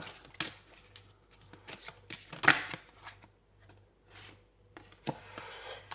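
Very large oracle cards are shuffled and handled, giving a series of soft papery swishes, slides and flicks at close range, with a few sharper snaps between quiet gaps and no talk.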